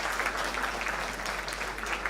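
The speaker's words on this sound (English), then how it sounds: "Please give your parents a big round of applause" Brief applause at a convocation ceremony as graduates clap for their parents, a steady wash of many hands clapping at moderate volume.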